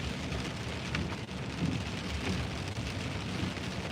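Steady rain heard from inside a moving car, a dense continuous hiss and patter at moderate level with a low rumble underneath, no voices.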